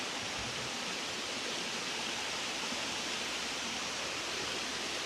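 Waterfalls on Wilson Creek tumble down from Grandfather Mountain beside the Tanawha Trail, a steady, broadband rushing roar heard up close with no voices.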